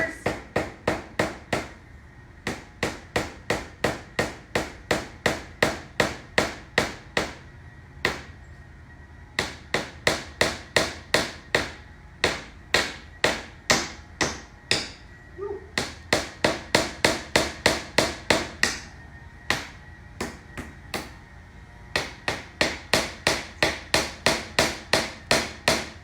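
A hammer drives finish nails into a wooden succulent planter, with rapid bursts of sharp, close taps in quick runs separated by short pauses.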